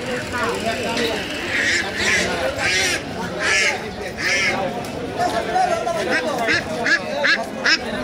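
Ducks quack in bursts at a busy Bogura market stall, loud and close, mixed with crowd chatter and a voice haggling over prices.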